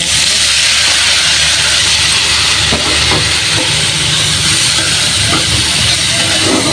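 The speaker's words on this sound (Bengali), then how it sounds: "এটা মাছ ভেজে নেবো।" Fish frying in hot oil in a home kitchen: a loud, steady, close sizzle and hiss with faint crackles, unbroken throughout and with no talk.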